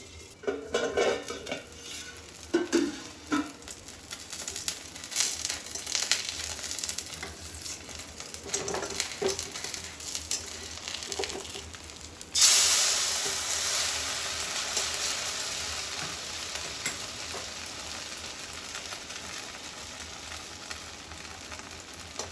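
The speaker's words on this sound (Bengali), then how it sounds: "ফুলকপিকে এরকম করে সামান্য তেল দিয়ে ভেজে নিতে হবে" Cauliflower frying in a little oil in a pan, a steady close sizzle with metallic clinks and stirring scrapes, the sizzle jumping louder midway and continuing alone without talk.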